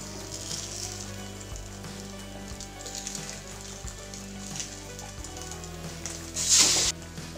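An omelette frying in a pan for a quick Spanish-style breakfast gives a steady soft sizzle, with a brief louder burst of hissing near the end as it is flipped.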